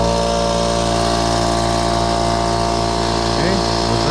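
Harbor Freight 8 gallon air compressor running loud and close with a steady motor drone and humming tones, a voice briefly talking near the end.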